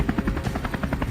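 Helicopter rotor chopping overhead during a wild boar hunt, a fast, steady, loud thudding of blades close by, with no voices.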